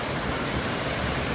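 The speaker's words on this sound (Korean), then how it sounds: "잠시 자연의 물소리 한번 감상하겠습니다." Steady rushing water from a mountain valley stream fills the scene evenly, a continuous broadband wash flowing close by, with no voices.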